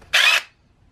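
A power drill driver with a 5/64 bit bores into the bottom of a hook in one short, loud, close whirring burst that stops abruptly.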